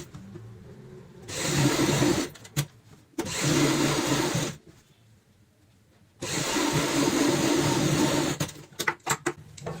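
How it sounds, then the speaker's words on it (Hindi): A sewing machine stitches fabric for a ladies' bag in three sustained whirring runs separated by pauses, close and steady, with small clicks between runs. "और सिलाई लगाएंगे"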